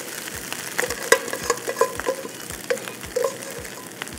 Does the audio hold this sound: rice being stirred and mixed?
yes